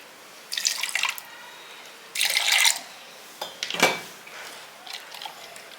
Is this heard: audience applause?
no